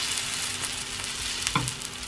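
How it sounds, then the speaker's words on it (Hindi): Spinach pancake batter cooking in a hot pan, a loud continuous close sizzle with one faint knock partway through, no voices. "अब ये कुक हो रहा है"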